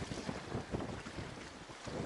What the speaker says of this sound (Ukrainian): Погода сьогодні дуже вітряна, прям дуже сильно вітряна.